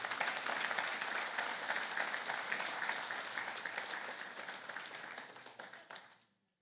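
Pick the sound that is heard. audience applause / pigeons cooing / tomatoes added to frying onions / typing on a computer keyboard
audience applause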